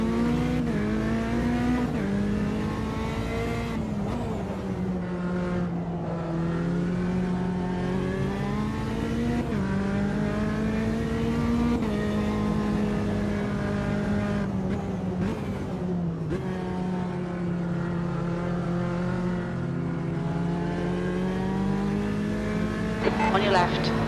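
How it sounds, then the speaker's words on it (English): Faster-class prototype race cars in Automobilista 2 at Montreal, engines droning and shifting pitch continuously for the whole stretch, loud and close, with a voice talking over the engine noise. "There's a faster class car approaching."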